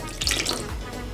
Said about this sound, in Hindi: थोड़ा सा पानी और ऐड करेंगे